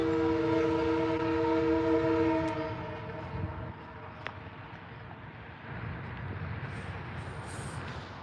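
A short train with a single car passes, its horn sounding loud and steady for about two seconds before giving way to rolling rumble and track noise that fade into the background.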